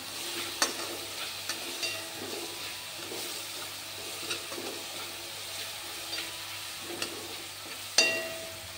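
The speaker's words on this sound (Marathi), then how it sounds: "आता हा मसाला आपल्याला तेलात छान भाजून घ्यायचा आहे।" Masala roasts in oil in a pan over a medium flame with a soft, continuous sizzle, broken by occasional light taps and scrapes of a spoon. A sharper clink sounds near the end, with no talking.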